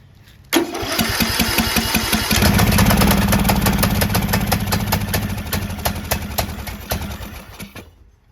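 A Briggs & Stratton 19.5 HP engine on a John Deere LA110 lawn tractor, being rebuilt, starts abruptly and runs for several seconds with a loud, steady, chugging beat before winding down at the end.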